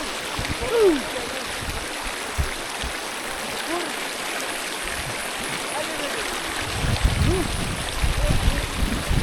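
A mountain river stream flows steadily on a trail to Argopuro, crossed on foot, with a continuous rushing wash of water and occasional splashes growing louder toward the end; no clear speech over it.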